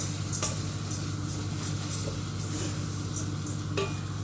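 Chicken frying in a pan while being stirred, a steady close sizzle under a low hum, with occasional clinks of a utensil against the pan.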